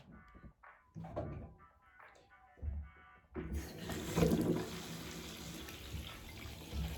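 Tap water runs steadily into a bathtub while a fresh tattoo is being washed, a close splashing stream that starts abruptly partway through after a few quieter knocks and handling sounds.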